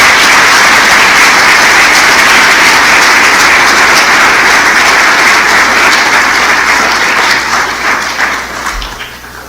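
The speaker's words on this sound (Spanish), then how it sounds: "Dale otro aplauso." A church congregation claps loudly and continuously for several seconds, dense sustained applause that fills the room and tapers off slightly at the end, with no voices.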